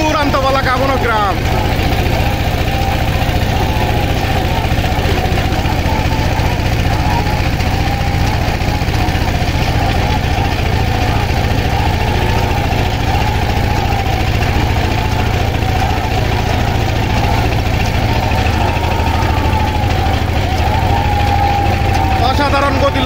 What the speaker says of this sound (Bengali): কেউ কিন্তু কাউকে ছেড়ে দিচ্ছে না, সমান তালে কিন্তু এগিয়ে যাচ্ছে দুটি নৌকা।